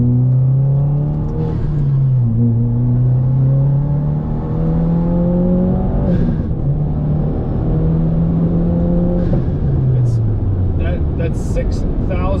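A 2022 Subaru WRX engine revs up and down in rising and falling sweeps toward its 6,000 RPM redline, heard from inside the car under steady road noise while someone talks over it.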